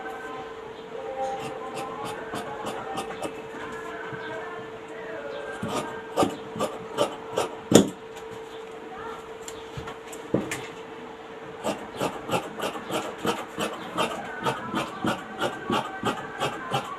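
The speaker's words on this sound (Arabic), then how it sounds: "ونقص بقى الزيادة بتاعتنا." Excess fabric of a Saudi thobe being cut produces rhythmic, rasping cutting strokes that come in quick bursts and grow denser and more regular toward the end, close and clear over faint background noise.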